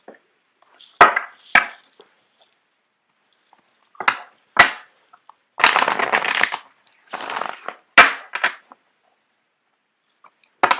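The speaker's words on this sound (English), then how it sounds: "I'm going to shuffle out the cards for you guys." Playing cards being shuffled close by in separate bursts: sharp riffles and snaps, a longer riffle in the middle, with silent gaps between.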